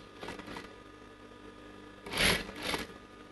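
A sewing machine stitches lace onto a blouse sleeve, giving two short close-up bursts of mechanical whirring separated by quieter handling noise.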